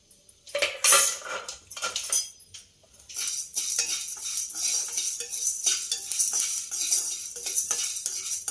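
Sesame seeds and cumin going into a pan while making a brinjal masala fry, heard as close metallic clinks and scrapes of a spoon on the pan, steady and busy throughout with a louder burst near the start.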